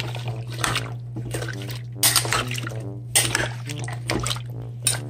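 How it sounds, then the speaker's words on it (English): Beef broth is stirred in a crock pot, with wet sloshing and spoon swirls coming in bursts over a steady low appliance hum. "now we're going to stir all that up"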